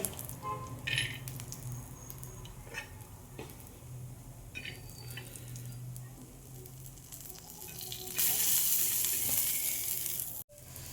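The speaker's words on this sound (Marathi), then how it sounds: "आता पण थोडेसे शेंगदाणे भाजून घेऊया" Peanuts roast in a pan with a quiet, continuous sizzle and occasional scraping stirs, a brighter hiss rising near the end before a sharp clatter.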